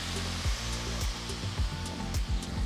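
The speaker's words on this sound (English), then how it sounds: "Now gently add the ground onion mixture and stir well." A ground onion mixture goes into hot oil seasoned with mustard seeds and asafoetida and gets stirred, giving a steady loud sizzle with repeated scraping strokes of the spoon against the pan.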